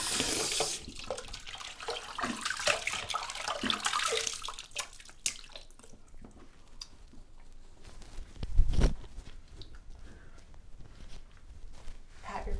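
Water runs from a sink tap as a face is rinsed during a facial, with splashing that fades to quieter trickling and a brief louder splash partway through.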